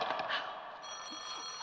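An old-style telephone bell rings briefly and faintly, a short trill that fades into a thin lingering tone, with no voices.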